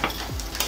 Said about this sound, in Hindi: अब इनको फ्राई कर लें।